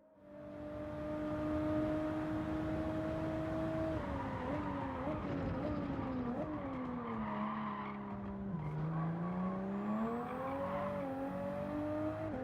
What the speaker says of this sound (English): As expected, the car is a bit more unstable on the throttle